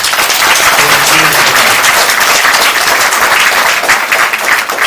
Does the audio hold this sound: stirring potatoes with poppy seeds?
no